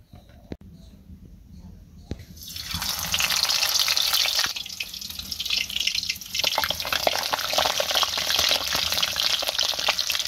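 Quail frying in hot oil in a wok (kadai) in a village kitchen, a loud continuous sizzle that bursts in after a few quiet seconds and keeps hissing and crackling close by.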